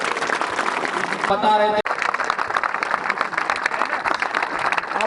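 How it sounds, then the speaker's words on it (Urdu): Applause and crowd noise from an audience at a speech event, steady clapping mixed with chatter, a brief tonal burst partway through, and a voice speaking over it. "تالیاں"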